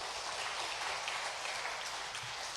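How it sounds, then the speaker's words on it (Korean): A church congregation claps together in a broad, even wash of applause, heard from a distance and fairly faint, with no voices over it. "이 영광의 박수로 영광을 올려드리겠습니다"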